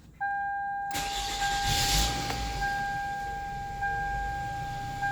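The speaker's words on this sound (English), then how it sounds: "So we're going to start up the car first." A 1996-2002 Toyota Camry engine turns over and catches at about one second, then settles into a steady idle with a broad hiss and a thin tonal whine on top.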